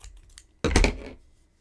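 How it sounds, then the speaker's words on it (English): Scissors snip through crochet yarn in one sharp, close cut after a few faint soft handling sounds, then fade quickly to quiet. "Cut our yarn."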